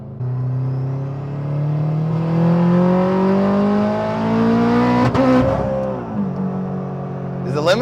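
Turbocharged 8th-gen Honda Civic revving hard through third gear toward the limiter, a loud rising engine whine that climbs steadily, then cuts sharply near the top before settling, with a brief voice under the engine.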